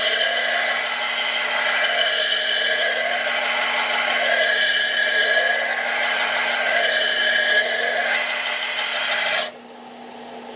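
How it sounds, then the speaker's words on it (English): A hand-forged blade edge is sharpened at a blacksmith's bench with a continuous, close, dry rasping sound in repeated even strokes that stops abruptly near the end, leaving a quieter background. "So now it's time to sharpen, just like this."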